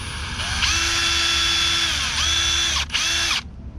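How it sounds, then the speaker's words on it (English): A power drill with a 3/16 bit bores into a foam golf ball, whining loudly in a sustained burst that dips briefly near the end, then cuts off. "you're going to get your 3/16 drill bit, and you're going to drill right in the middle"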